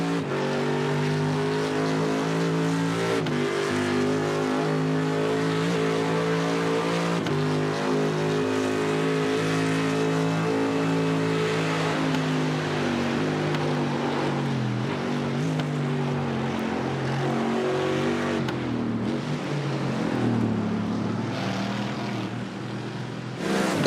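Race cars lapping the Nürburgring in a sim racing endurance event, a continuous loud engine wail with rising and falling pitch through gear changes, sustained for the whole stretch with no commentary.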